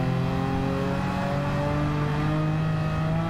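In Gran Turismo 7, a Volkswagen Beetle swapped to a Porsche engine drones along a straight. The engine sits at a steady, sustained high pitch, loud and continuous, with slight shifts in tone as it nears a downshift.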